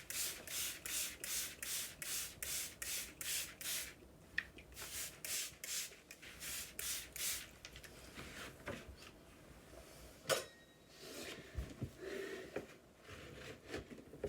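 A small scraper rasps in quick, rhythmic strokes as old paper is peeled from a Japanese shoji screen, then slower, scattered scrapes and soft rustles follow, all faint and close with no talking.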